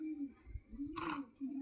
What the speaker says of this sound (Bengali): তো বন্ধুরা আরেকটা সিঙ্গেল মালবাই মাদি পায়রা আছে।